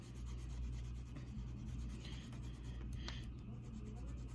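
A graphite pencil rubs steadily over an oil pastel drawing, a faint continuous scratchy shading sound with a low hum underneath.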